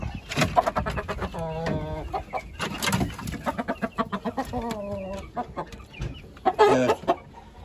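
Several Indian game chickens, including roosters, cluck and squawk close by, with bursts of harmonic calls overlapping in a busy, irregular barnyard chatter.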